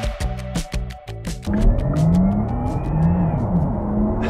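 A Porsche Taycan Sport Turismo GTS electric wagon drives along, giving a steady synthetic hum with a rising tone as it pulls away. Rhythmic clicking precedes the hum, and the sound is fairly loud and close, with no talking.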